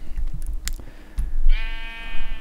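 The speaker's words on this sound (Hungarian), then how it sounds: "Báránynak álcázott kecske, maradjunk ennyiben." A goat bleats in a video game level, a single drawn-out nasal bleat after several soft clicks and taps, loud and close with no talk.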